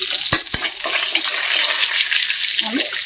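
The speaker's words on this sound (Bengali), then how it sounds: "এই তেলের মধ্যেই তেজপাতা, দুইটা এলাচ মধ্যে দেওয়া পাল্টা করে নিচ্ছি।" Bay leaves and two cardamom pods crackle in hot oil left in the pan after frying eggs, a steady close sizzle with a couple of sharp pops near the start and faint stirring.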